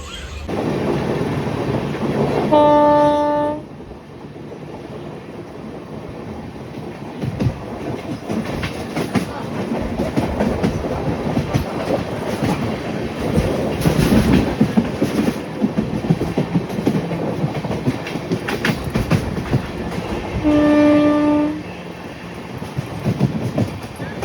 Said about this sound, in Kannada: ಈಗ ಕ್ರಾಸಿಂಗ್ ಆಗಿರೋದು ಎರ್ನಾಕುಲಮಿಂದ ಹಟಿಯಾಗೆ ಹೋಗೋ ಈ ಒಂದು ಟ್ರೈನು ಕ್ರಾಸಿಂಗ್ ಆಯಿತು